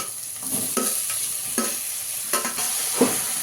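Okra and tomatoes with a little salt are stirred in a pan, with a soft sizzle beneath about six scraping spoon strokes at an uneven pace, close and fairly loud, and no talking.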